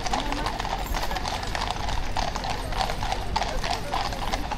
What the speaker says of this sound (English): Ladies and gentlemen, this is the guards' horses.